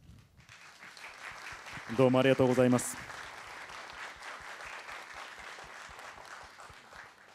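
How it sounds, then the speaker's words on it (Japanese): Audience applause at a film completion press event for a Japanese movie, sustained clapping throughout, swelling briefly while someone speaks a short thank-you over it. "拍手が鳴りやみませんね"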